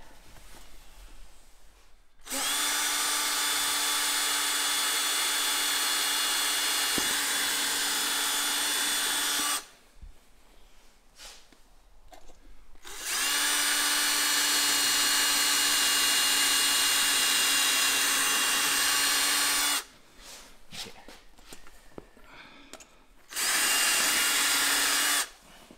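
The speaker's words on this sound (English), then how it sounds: "we had to drill these holes out" A power drill whines in three long bursts, steady and loud at close range, separated by short pauses with faint clatter.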